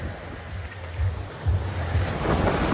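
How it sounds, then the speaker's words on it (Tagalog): Strong surf at Boracay beach with wind gusting across the microphone, waves surging and breaking nearby at high tide as a storm approaches, loud and continuous with no talk. "Lakas na ng alon."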